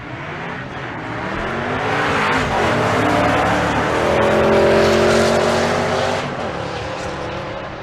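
Two Ford Mustangs, a 1991 and a 1993, drag race side by side at a Bandimere drag strip race day, engines roaring loud and close as they launch and rev hard, rising in pitch before fading away.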